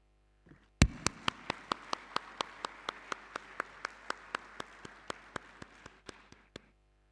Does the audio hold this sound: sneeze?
no